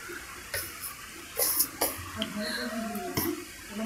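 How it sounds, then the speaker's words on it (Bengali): Fish being washed under running water at a home washing spot after scaling, with splashing, trickling water and a few sharp clatters up close, while a person talks quietly in the background. "এখানে বসে বসে ধুয়ে নিচ্ছি।"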